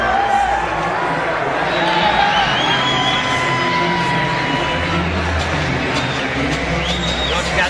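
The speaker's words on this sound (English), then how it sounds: "Crowd loving it." A boxing arena crowd at a Julio Cesar Chavez Jr. vs. Matt Vanda fight cheers and whoops in a loud, continuous roar, with shouts and whistles rising throughout.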